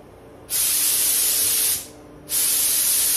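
Spray gun with a 1.5 needle nozzle running at about 2 bar while refinishing a pedestal, two loud close bursts of steady air-and-paint hiss separated by a short pause, with no talking.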